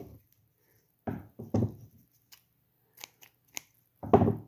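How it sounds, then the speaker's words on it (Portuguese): Scissors snip through crochet yarn in a few short, crisp cuts spread across a quiet stretch, with softer handling rustles around them. "eu vou cortar a linha"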